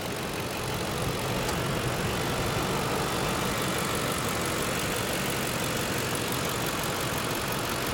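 A 2007 Lincoln Navigator Ultimate 4x4 with a 5.4-liter V8 idles steadily, a dense, even engine drone holding at a constant level throughout with no voices.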